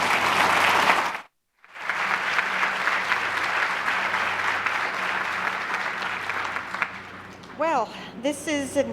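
Audience applause welcomes a speaker at an ECPAT Code of Conduct signing, a loud burst that cuts off briefly, then resumes as sustained clapping for several seconds before a voice begins speaking near the end.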